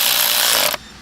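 A power driver spins spark plugs down into a 2017-2021 Ford F-150 3.5L EcoBoost engine, giving one steady close whirring run that cuts off abruptly after under a second.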